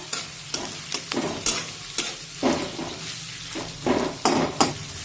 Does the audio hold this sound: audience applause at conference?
no